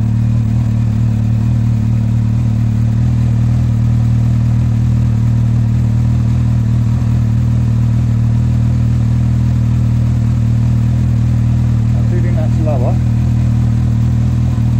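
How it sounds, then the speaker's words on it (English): A Honda CBF1000 motorcycle engine, fitted with a new stator for testing, idles with a loud, steady low drone close to the microphone that holds unchanged from start to end. "Leave it to idle for a sec."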